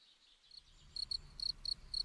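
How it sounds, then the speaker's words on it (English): A male cricket chirps by rubbing its front wings together in short, high pulses, about five evenly spaced bursts, faint and close against a quiet background. "Male crickets produce sounds by rubbing their leathery front wings together."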